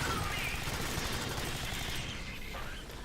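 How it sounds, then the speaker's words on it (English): Cluster grenades burst in the sci-fi shooter Alien Swarm: Reactive Drop, a dense rumbling barrage of overlapping explosions mixed with game effects, loud and continuous before thinning slightly near the end. "Grenades are cluster grenades, as you can see. You toss one and then they explode into more grenades."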